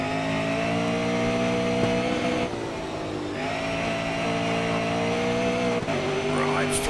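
A race car in Grid Autosport at Brands Hatch, with a steady loud engine drone rising and shifting through gears under full throttle and a brief dip around a shift, while someone talks over it.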